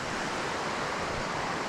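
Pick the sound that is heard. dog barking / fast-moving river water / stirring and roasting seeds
fast-moving river water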